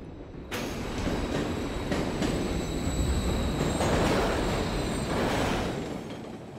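Trains rush past in the video game Modern Warfare 3, a loud continuous rumble of rail cars and clattering wheels with squealing tones, starting abruptly and fading slightly at the end.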